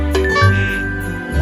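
A household doorbell chimes with a bright, ringing tone that sustains and fades over about a second, loud and close with no speech.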